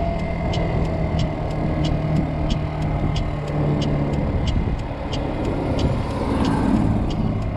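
A Kymco Agility 50 scooter is ridden at top speed against its rev limiter, producing a steady, close motor and road drone with a regular light ticking throughout.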